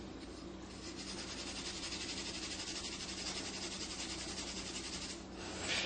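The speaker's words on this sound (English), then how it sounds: "we just have to use some steel wool and get the etchant off the PCB" Steel wool scrubbing etchant off a printed circuit board: a steady, continuous abrasive rasp at close range, running without pause for several seconds and swelling slightly louder at the end.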